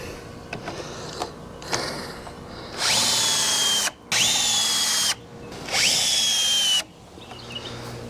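A power drill drives fasteners into the corners of a rain collection frame in three sustained whirring bursts that wind up and stop, with lighter knocks and handling sounds between them.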